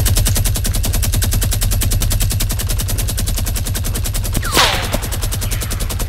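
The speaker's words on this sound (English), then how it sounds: "That minigun is still really going everywhere." A minigun in the Fortnite video game fires in a continuous rapid buzzing burst lasting the whole stretch, loud and steady, with a brief whooshing sweep near the end.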